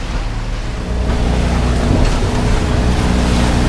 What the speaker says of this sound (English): Alright, so we're back up and running on the starboard engine.